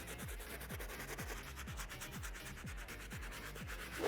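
A soft bristle brush scrubs a nubuck suede sneaker in steady, rhythmic back-and-forth strokes, about two per second, each a close, dry rasp with no talking over it.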